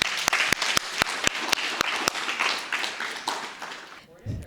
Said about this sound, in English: I really think that we should all applaud ourselves for all the work that we're doing